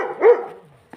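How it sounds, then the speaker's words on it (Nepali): A dog barks out in falling snow, one loud bark with a quick tail that fades into a faint whine, and then a short soft yip follows near the end. "यहाँ कुकुर भुक्दैछ"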